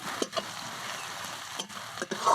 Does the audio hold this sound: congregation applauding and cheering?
no